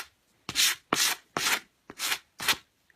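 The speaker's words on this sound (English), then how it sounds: "So I just grab my sandpaper." Sandpaper distresses an Everlong-painted surface in five even back-and-forth strokes, each a crisp, close scratchy rasp separated by short pauses.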